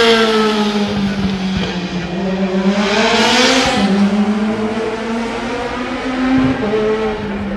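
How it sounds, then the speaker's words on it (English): An Indy Pro 2000 race car pulls out of pit lane, its engine note climbing through a sustained, loud, steady whine with rising and falling pitch as it accelerates past, heard alone without voices. "another car leaving pit lane"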